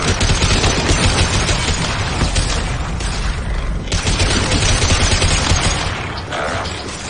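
Heavy sustained gunfire and booming blasts in the sci-fi game Mass Effect 2, a loud continuous barrage of shots close by that eases slightly toward the end.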